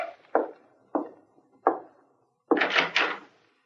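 A door in a radio drama gives a series of sharp wooden knocks or thumps, three evenly spaced single hits followed by a quicker, louder cluster, close and alone without talk.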